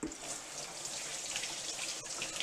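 Faint, steady hiss of tap water running over a stainless steel knife at a kitchen sink, continuous with no voices.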